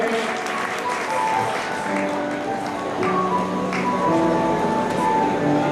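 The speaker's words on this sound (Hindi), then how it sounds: "जोरदार ताली से स्वागत करें।" Sustained audience applause at a birthday tribute and honours ceremony for a singer in Harda, a steady dense clatter of clapping filling the hall with faint tonal background sound underneath.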